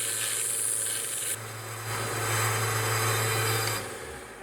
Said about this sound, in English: we're going to use this Vevor benchtop belt sander to clean up these the rest of the way